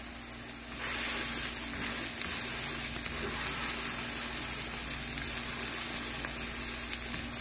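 Food frying in oil in a pan for a sandwich of bread, cheese and ham, a loud, continuous close sizzle that starts after a brief quieter moment and holds steady.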